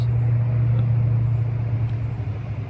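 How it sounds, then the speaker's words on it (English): Cars drive past on a nearby road, a loud steady low rumble of passing traffic with no talking. "Sorry, these cars are going by."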